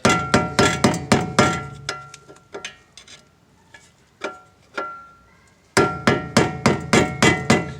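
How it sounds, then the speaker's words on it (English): Sharp metallic hammer blows ring out in quick bursts on a BMW 325i front wheel bearing, a rapid series, then a few scattered strikes, then another fast volley, loud and close. "We're just gonna damage just a little bit of it, and then we'll hammer it right back in."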